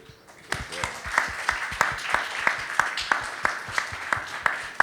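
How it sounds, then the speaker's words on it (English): Audience at a dispensary fireside chat clapping in a rhythmic, fairly close round of applause, the claps steady and evenly paced for several seconds. "Can we please get a round of applause also for all of the amazing vendors here?"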